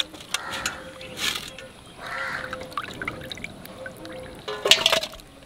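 Scaled pakal fish are washed by hand in water, with splashes, pours and drips coming in uneven bursts, some louder than others, against quiet outdoor background sounds.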